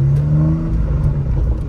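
A 2019 Porsche 911 Targa 4S in sport mode idles with a steady, close, low exhaust drone, and a few faint cracks and pops break through at intervals.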